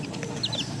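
Baby chicks chirp and cluck softly in a short burst, with two or three quick high peeps standing out over a steady low background noise.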